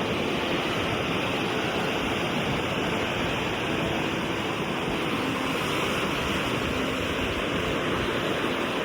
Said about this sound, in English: Lots of waves today.